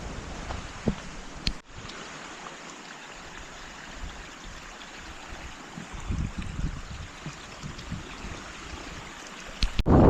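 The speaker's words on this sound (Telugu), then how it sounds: "ఫ్రెండ్స్ ఇగో వాటర్ ఫాల్స్ మధ్యలోకి వచ్చి నడుచుకుంటూ అయితే వస్తున్నాం" Water rushes steadily at a waterfall while someone wades through it, with a broad continuous wash, wind buffeting and a few close splashes and knocks.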